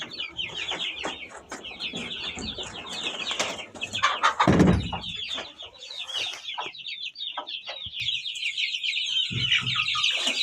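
Incubator-hatched chicks, among them Australorp and Kuchinsky chickens, peep shrilly and continuously while hens cluck nearby. A dense, close chorus with a brief louder rustle midway.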